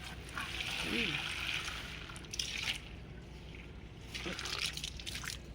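Water sloshing and trickling as a lotus tub is filled until it overflows, with soft splashing and running water nearby and a person talking over it.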